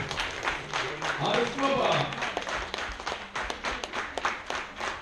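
An audience claps at a children's awards ceremony in Riga's Dome, a steady patter of many hands filling the hall while a presenter speaks over it.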